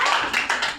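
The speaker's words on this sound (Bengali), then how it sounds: "হাততালি" A small group claps at a children's prize draw, a short burst of quick, close hand claps lasting under a second.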